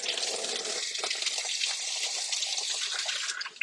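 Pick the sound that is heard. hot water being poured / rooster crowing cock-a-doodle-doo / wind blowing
hot water being poured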